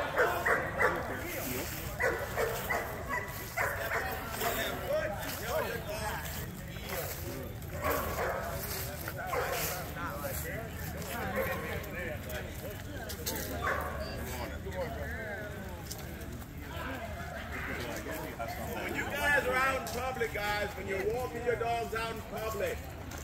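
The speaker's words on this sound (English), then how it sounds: "your dog will stop that temper tantrum" A young dog whines, yips and barks insistently in a temper tantrum during a training session, the excited canine noises continuous and close, mixed with a person talking over them throughout.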